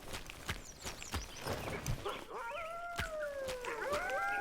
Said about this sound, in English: Yeah, howl, howl.